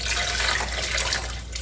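About four and a half cups of water pour steadily into a stock pot for birria, a continuous close splashing rush with no break.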